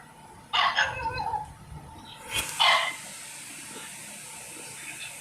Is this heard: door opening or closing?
no